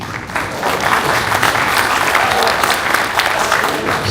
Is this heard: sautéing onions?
no